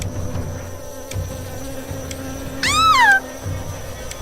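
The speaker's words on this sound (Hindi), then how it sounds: "कुछ मधुमक्खी निकली और उन सभी के आसपास मंडराने लगी" Bees buzz around in an animated Hindi horror story, a steady, thin insect drone that hums throughout, with a cat's meow rising briefly near the middle.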